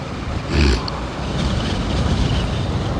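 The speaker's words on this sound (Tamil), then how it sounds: "ஆனால் காற்று ரொம்ப அடிக்குது" Strong wind buffets the microphone in heavy low rumbling gusts during a motorbike ride, with a louder burst near the start and constant roaring noise after.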